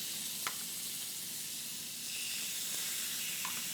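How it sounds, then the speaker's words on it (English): Steady, close sizzling of chops searing on a hot grill pan, a continuous bright hiss with a few faint pops and no talking. "when you're cooking with a grill pan, you want to hear this kind of sear"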